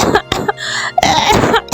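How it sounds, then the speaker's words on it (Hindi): A cartoon child character coughs harshly several times in quick bursts, with throat-clearing sounds between them, loud and close, no other voices in the clip. "मामा, मेरे गले में दर्द है और खांसी भी आ रही है।"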